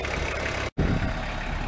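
VW T4 Transporter diesel engine idles at close range, a steady ticking rumble that drops out briefly and then resumes evenly, with no talk.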